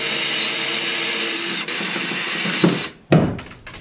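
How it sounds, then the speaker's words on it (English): A power drill drilling out rivets on a kayak whines steadily at high speed, dips briefly, then cuts out into a few short bursts and clunks near the end. "I got my drill here, so what I'm going to do is I'm just going to drill out these rivets"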